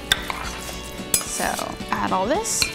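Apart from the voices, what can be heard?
stirring artichoke dip mixture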